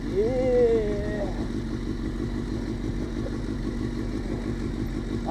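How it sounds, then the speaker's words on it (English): Engine of a Bullet motorcycle riding offroad, a steady low throbbing rumble with a brief rising rev early on, close and continuous, with people's voices heard over the start. "On a bullet bike, man."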